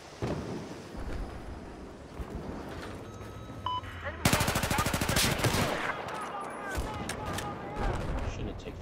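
Video game gunfire in Battlefield 4: a sharp, rapid automatic burst erupts mid-clip over a rumbling battlefield backdrop, followed by scattered more distant shots and faint voices.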